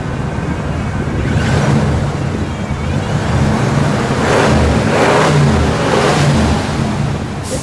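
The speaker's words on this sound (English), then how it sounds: "Humberto, give it just a little rev." A 1979 Lincoln Continental Mark V with a 400 cubic inch engine and dual exhaust idles loudly up close, then swells through several short revs, its deep rumble rising and falling, with no talking.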